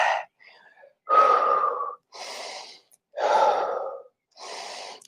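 Heavy, forceful breaths during a low-impact yoga leg and glute exercise, five loud exhales and inhales in an uneven rhythm, close and clear with no talking.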